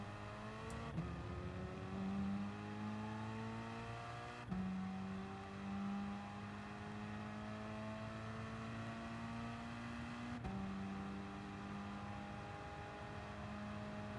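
An Alfa Romeo 4C Gr. 4 race car in Gran Turismo Sport at Suzuka accelerates hard, its engine note climbing steadily through the gears with brief dips at each upshift, loud and continuous throughout.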